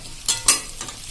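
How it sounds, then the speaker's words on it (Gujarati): Onions and mixed vegetables stirred in a pan over a medium flame for a curd-onion curry, with a soft low sizzle under a few quick scraping strokes of the spoon. "આ રીતે આપણે મીડિયમ ફ્લેમ ઉપર 3 થી 4 મિનિટ આ રીતે ચલાવતા ચલાવતા આપણે આ કાંદા અને આ બધી સબ્જી સરખી એવી કૂક કરી લેશું"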